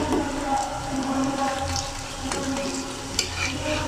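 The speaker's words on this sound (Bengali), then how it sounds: "লাল লাল করে ভেজে নিচ্ছি, একটু শক্ত করে বেশি টাইম নিয়ে ভেজে নিচ্ছি।" Winter vegetable pitha fries in hot oil, a dense continuous bubbling sizzle close up, with a brief sharper pop near the end and no talking.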